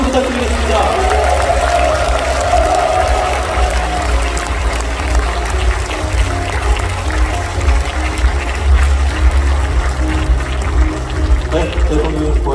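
Audience applause fills the hall at the Gangwon Special Self-Governing Province launch ceremony, a steady, dense wash of clapping that carries on evenly for several seconds beneath a low rumble.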